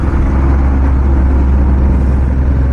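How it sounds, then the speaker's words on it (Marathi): A truck rolls past on a road toward Rameswaram, a steady, loud, low engine rumble that holds evenly throughout, close by with no voices. "ट्रक आला."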